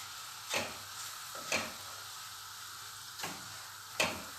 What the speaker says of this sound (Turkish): Yağımın içerisine 400 gram irmiğimi boşaltıyorum. Ve kavurmaya başlıyorum.